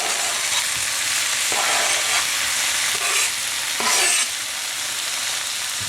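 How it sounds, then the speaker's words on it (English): Tofu drops into a pan of hot spiced oil for a coconut curry, sizzling steadily while a spoon stirs and scrapes in short bursts, close and fairly loud, with no talking. "And now we are going to put our tofu in."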